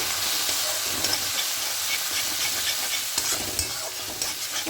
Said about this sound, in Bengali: এবার এখানে গুঁড়ো মশলাটা অ্যাড করবো ধনিয়া গুঁড়ো জিরে গুঁড়ো হলুদ গুঁড়ো আর লঙ্কা গুঁড়ো দিয়ে খুব ভালো করে মশলাটা একটু কষিয়ে নেব